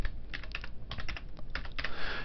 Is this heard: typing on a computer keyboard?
yes